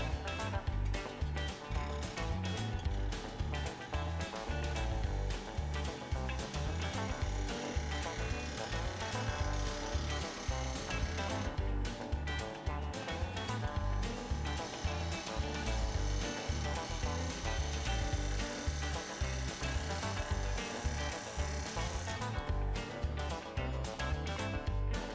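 A wood lathe spins as a gouge cuts a three-corner wooden bowl, giving a loud, continuous scraping whir with a rapid, fluttering rhythm that keeps going without a break.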